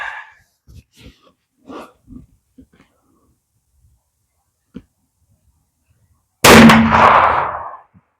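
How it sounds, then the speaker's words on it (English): A single loud, close gunshot from a Hopkins and Allen underhammer buggy rifle booms near the end, preceded by quiet breathing and faint handling noises. "let's take the first shot"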